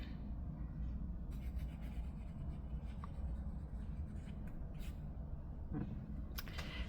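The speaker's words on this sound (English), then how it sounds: "I've been using this Hokuro dip nib with the medium nib and the reservoir" A metal dip pen nib with a reservoir scratches across paper with ink, making faint, close scratchy strokes and light taps over a low, steady room hum, quiet and without talking.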